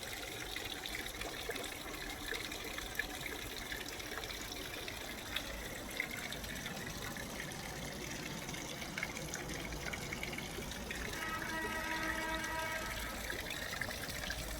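Water flows steadily through a garden pond with three small flowing areas, giving a continuous, even trickling wash that stays at a constant level throughout, with no voices.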